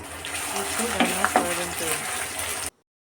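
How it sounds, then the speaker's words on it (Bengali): Onion, garlic and green chili frying in a pan give a steady, moderate sizzle with soft stirring, under a faint voice, for close to three seconds before cutting off. "কাঁচামরিচ পেঁয়াজের সাথে একটু ভাজা ভাজা করে নেব"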